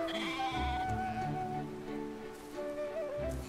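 Sheep bleat in the video game Brothers: A Tale of Two Sons, with several wavering calls against soft rain-like patter and a gentle musical backdrop. The calls are close and distinct.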